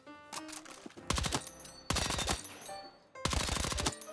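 A low-recoil gun in a Battlefield game fires three loud, rapid automatic bursts close by, with short pauses between them and a few single shots at the start.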